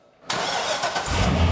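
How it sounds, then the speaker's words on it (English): A restored Corvette ZR1 Blue Devil cranks and fires, its engine catching abruptly and settling into a loud, rough idle that begins to swell in volume. "So with that, Todd Christensen from our Corvette team is going to give it the start"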